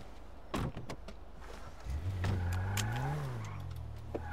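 A car engine in the GTA video game hums and revs up and down at close range, following a few sharp door-like clicks, with no talk over it.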